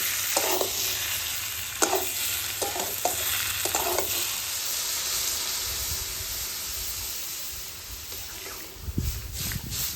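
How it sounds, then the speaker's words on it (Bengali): Fried pointed gourd being stirred in a frying pan for a gourd and prawn curry, with steady loud sizzling and hissing and a few spatula scrapes early on, no talking. "আমি ভেজে রাখা পটলগুলোকে দিয়ে আরেকটু নেড়ে চেড়ে জল দিয়ে দেবো।"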